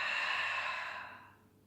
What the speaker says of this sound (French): une belle expire par la bouche